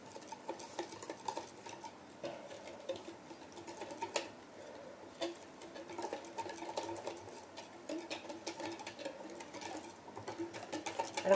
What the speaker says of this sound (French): Et là, je mélange une première fois.